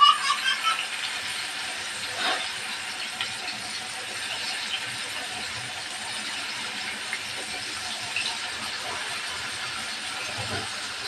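Fish frying in hot oil makes a continuous, fairly loud sizzling hiss that holds steady throughout with small crackles, and no one talks.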